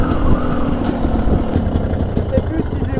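A GasGas 300 two-stroke supermoto motorcycle engine runs loud and close, a rough buzzing drone with quick irregular pulses throughout.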